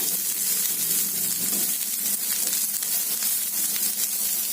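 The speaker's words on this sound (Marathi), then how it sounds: "आता आपण हे कांदे घालूया. ते पण चांगले लाल होईपर्यंत परतायचे आहेत आपल्याला." Chopped onions sizzle in a pan of already-fried garlic during cooking of a Maharashtrian cashew curry, a steady dense frying hiss filling the whole stretch with no voices.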